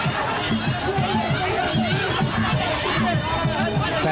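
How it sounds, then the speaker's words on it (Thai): Crowd of fans at a Thai Fight Muay Thai event held outdoors at a temple plaza, a steady roar of chatter and cheering with rhythmic chanting pulses running throughout. "แฟนๆเสียงเชียร์บรรยากาศที่ลานพระพุทธนี่อึ้งไปหมดครับ"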